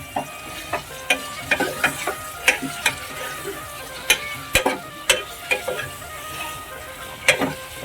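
Mutton, onion and oil stirred together in a pan with a spatula, giving steady sizzling broken by repeated sharp scrapes and taps against the metal, close and loud.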